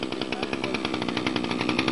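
A small engine revs hard as it warms up at close range, giving a loud, continuous, rapidly pulsing buzz with steady rhythmic beats and no pauses.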